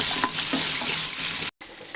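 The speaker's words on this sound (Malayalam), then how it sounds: "ഞാൻ കുറച്ച് ചുവന്ന ഉള്ളിയാണ് ഉപയോഗിക്കുന്നത് ഈ ചുവന്ന ഉള്ളി നമുക്ക് ചേർക്കാം" Red shallots frying in hot coconut oil give a steady, loud sizzle with stirring, broken by a brief drop to silence near the end before the frying resumes.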